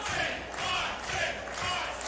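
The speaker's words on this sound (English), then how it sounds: "Listen to this crowd." A wrestling crowd at a CWFH event roars and cheers in a loud, steady wash of noise, swelling in waves with no clear pauses.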